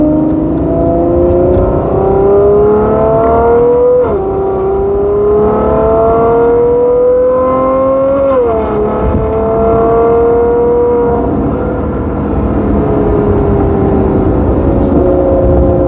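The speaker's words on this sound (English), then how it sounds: "Car shifts nice and smooth and it sounds amazing." A 2014 Ferrari F12 Berlinetta engine revs as it accelerates, its pitch climbing and then dropping at two gear shifts before pulling steadily again.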